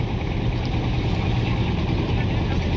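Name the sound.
passenger launch boat reserved for Charmonai gathering, Barisal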